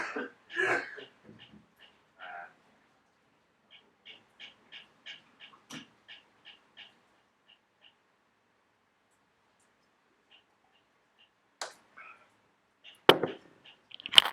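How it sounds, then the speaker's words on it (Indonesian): Scattered coughs and throat clearing during an online microprocessor systems lecture, short rough bursts near the start and again near the end, separated by long near-silent stretches with faint ticking clicks. "tadi ada iklan-iklan batuk"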